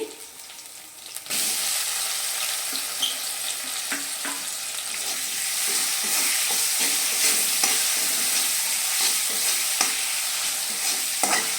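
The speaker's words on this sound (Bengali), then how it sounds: "আঁচটা আমি মিডিয়াম করেই মশলাটা কষাচ্ছি" Spice masala for vegetable dal sizzles and fries steadily over medium heat in a pan, with repeated close scraping and stirring strokes throughout and no talking.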